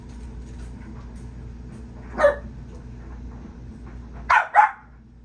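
A dog upset by fireworks gives a single sharp bark, then after a pause two quick, loud barks close together over a quiet low hum.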